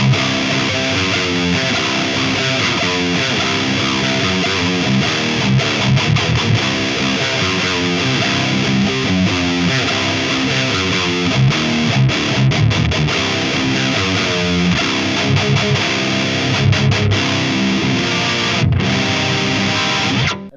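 A heavily distorted electric guitar through a Mooer Prime P2 Mark V amp model plays continuous riffs, loud and saturated, with chugging palm-muted notes and sustained chords throughout.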